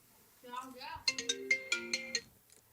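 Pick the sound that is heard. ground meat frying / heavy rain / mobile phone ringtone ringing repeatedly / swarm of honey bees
mobile phone ringtone ringing repeatedly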